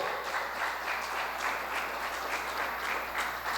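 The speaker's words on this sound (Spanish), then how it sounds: "den un aplauso" Congregation clapping at a Sunday church service, a steady, even burst of applause from many hands that holds at one level throughout the short stretch.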